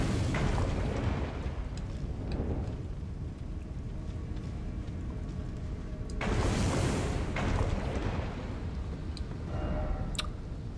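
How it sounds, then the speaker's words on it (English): Eruptive explosions boom on the volcanic slopes of Mt. Gelmir in Elden Ring, rolling deep rumbles under a constant roar, with a louder burst about two-thirds through and sharp ticks scattered on top. "Oh, I think I see the explosions."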